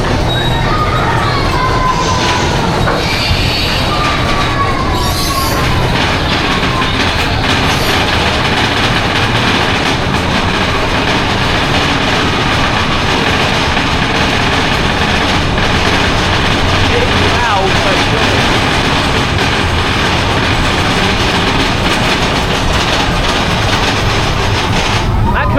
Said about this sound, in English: That could be one of the loudest lift hills ever.